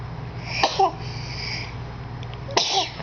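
Children sneeze twice, sharp bursts about two seconds apart, close by over a low steady hum, with little else between them.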